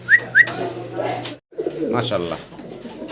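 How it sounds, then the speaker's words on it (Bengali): A pair of young Golla pigeons, top size and quality, coo in low throaty rolls close by while someone talks over and between their calls. "অসাধারণ সুন্দর ডাকতেছে, চমৎকার এক জোড়া গররা না ভাই?"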